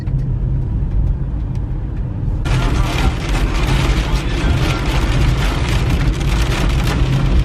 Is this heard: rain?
yes